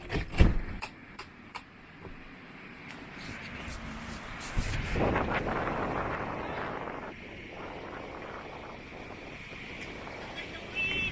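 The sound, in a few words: strong wind at a caravan by the coast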